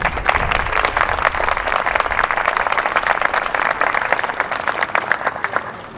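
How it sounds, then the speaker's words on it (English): Parents and guests at a school choir event applaud the choir students standing on stage: a steady, medium-sized round of clapping, fairly close and sustained for six seconds before easing slightly at the end. "So let's give the students standing here a round of applause for all of their endurance."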